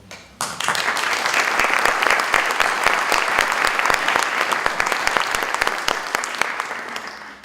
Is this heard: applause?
yes